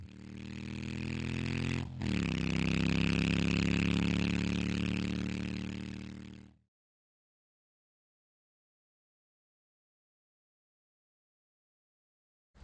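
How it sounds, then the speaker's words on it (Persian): Scooter engine revving up and holding a throaty, rising drone for several seconds, then cutting off abruptly into silence. "اسکوتر."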